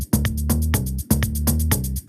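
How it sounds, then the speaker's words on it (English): Electronic hi-hat pattern with alternating loud accented hits and quieter ones, looping twice in a tight rhythm over a synth bass line in a live production setting. "this dun dun dun are the loud hi-hats, and the other ones are more quiet"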